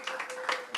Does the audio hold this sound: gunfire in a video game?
no